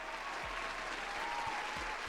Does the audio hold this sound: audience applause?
yes